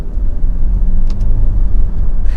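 A 2022 Nissan Altima 2.0 SR VC-Turbo accelerating in third gear, with a loud, steady engine rumble and road noise from inside the cabin that rises continuously, with no talking.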